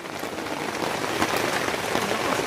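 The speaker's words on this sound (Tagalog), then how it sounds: "Humangin tapos malakas ang ulan?" Heavy rain drums steadily on a rooftop that is leaking, a dense continuous patter close by with no voices.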